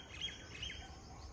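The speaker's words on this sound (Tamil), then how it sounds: "காக்கா கூட்டத்துக்கு இந்த காக்காங்களுக்கு பஞ்சமே இருக்கிறதில்ல எப்போவுமே" A few crows caw, faint and distant, with two or three short calls in quick succession over a quiet background.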